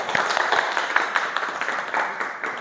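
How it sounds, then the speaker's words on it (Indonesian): An audience applauds in a school training session, a short burst of dense, lively clapping from many hands, fairly close and steady throughout. "Aplaus untuk kita semua."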